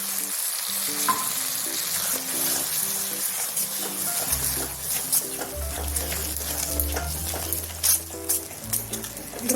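Tomato paste sizzles and fries in a pan for chicken gravy, with steady crackling, spoon stirring and occasional clinks of utensils against the pot, all close and fairly soft.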